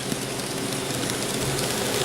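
An N scale model Amtrak train runs along a layout at a model railroad run day, giving a steady, close, continuous rolling rumble with a faint hum and no break.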